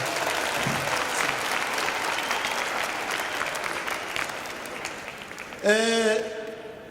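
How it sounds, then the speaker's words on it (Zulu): A church congregation at a Passover youth programme claps in a steady, dense wash of applause. Near the end a short burst of amplified voice or music rises over the clapping. "Thank you Botswana shaya ihlombe bazalwane"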